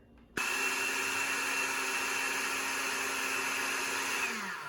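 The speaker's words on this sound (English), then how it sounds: "we put it in our blender, and again, we puree this until it's all incorporated" A motorized blender purees liquid, whirring steadily after an abrupt start, a loud constant hum and whine that holds for several seconds, then slightly drops in pitch near the end.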